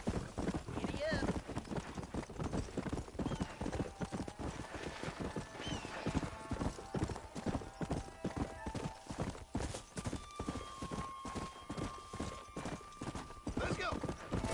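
Horse galloping in Red Dead Redemption, hooves clip-clopping in a steady rapid rhythm close by throughout, with an occasional whinny and a voice urging the horse on over the hoofbeats.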